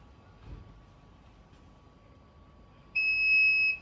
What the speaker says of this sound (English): One beep is first gear.